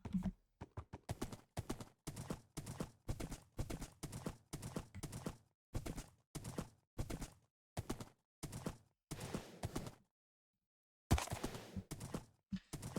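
A horse in the Minecraft video game trots with steady rhythmic clip-clop hoofbeats, a long run of regular blocky steps that pauses briefly before resuming, fairly close and clear with no talk.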